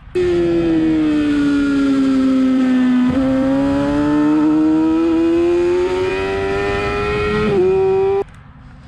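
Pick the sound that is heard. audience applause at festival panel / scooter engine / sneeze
scooter engine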